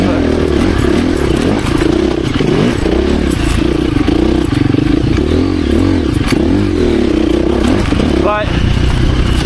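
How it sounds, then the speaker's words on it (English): A 2024 KTM 350 EXC-F four-stroke dirt bike engine buzzes and revs loudly and continuously while being ridden, with wind and clatter over a rough, rising and falling drone. "By far the most fun motorcycle I've ever owned."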